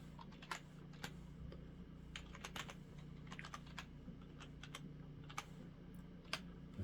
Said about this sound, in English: Confirm it by typing password again.